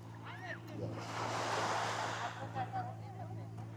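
Sea waves wash ashore at Dwarka beach in a continuous soft roar of surf with wind buffeting, swelling in the middle of the clip, while faint voices carry in the background.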